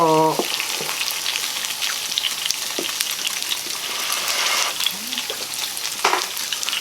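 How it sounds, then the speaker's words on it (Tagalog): Samgyupsal pork sizzles and crackles loudly and continuously in a hot pan, a dense hiss with scattered pops and a brief voice at the start. "Kasi pag nagluluto, maingay po yan."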